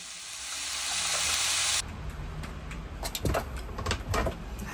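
Roast beef sizzling in a home kitchen during a Sunday dinner, a steady loud frying hiss that swells, then cuts to softer crackling with clattery bursts and handling noises.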